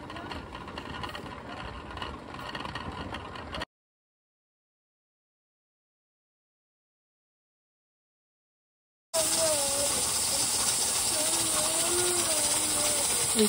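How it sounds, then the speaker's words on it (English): Steam hisses steadily from the vent of a pressure cooker with a weight on top while bone broth cooks. It is a continuous, fairly loud hiss with a wavering whistle-like tone, and a silent gap falls in the middle. "You'll want the steam to escape from the top, and then we're gonna put our weight on."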